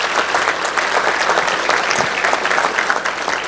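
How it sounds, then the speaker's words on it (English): A seated business-meeting audience gives a round of applause for members of a current course, steady dense clapping from many hands that fills the room without a break. "Will you give them a round of applause?"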